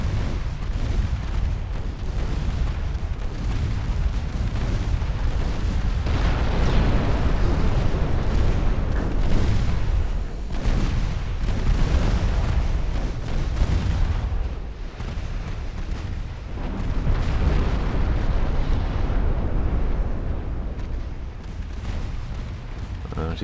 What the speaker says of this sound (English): She's had her torpedoes detonate.